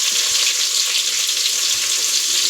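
Onion, green chilli and curry leaves sautéing in hot oil in a pan, a loud continuous close sizzle with a few faint stirring knocks underneath.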